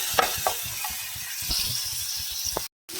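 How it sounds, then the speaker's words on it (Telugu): Whole spices such as cinnamon sticks and cloves frying in hot oil for a biryani masala, a steady close sizzle with soft stirring scrapes and light pops, cut off abruptly near the end. "ఇవన్నీ వేసుకొని ఫ్రై చేస్తూ ఉన్నాను"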